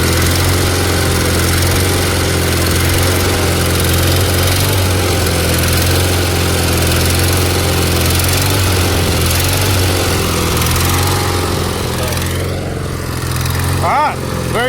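A small Onan engine on a Miller welder runs loud and close, with a constant low, throbbing drone that continues unbroken throughout, while the engine hunts.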